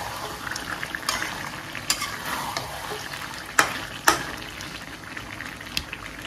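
Chicken fries in a pan for biryani, a soft steady sizzle broken by sharp scrapes and clacks of a spoon stirring against the pan, with no talking.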